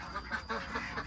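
Egg-laying ducks on a farm in Thailand quacking nearby, a short run of rough overlapping calls close to the recorder with no talk.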